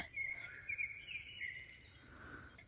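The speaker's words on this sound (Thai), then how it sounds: "ตอนนี้เป็นเวลาที่เช้ามากนะคะ เพื่อนๆได้ยินเสียงนกร้องไหม" Faint birdsong in the early morning near a hillside campsite behind a German-style village, with a few thin chirps and whistles repeating over a quiet outdoor background.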